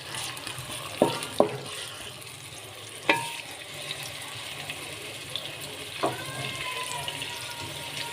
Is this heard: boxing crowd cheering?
no